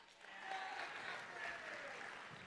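An audience at a school assembly claps steadily for students' birthdays, a soft, even patter of many hands sustained for a couple of seconds at a distance.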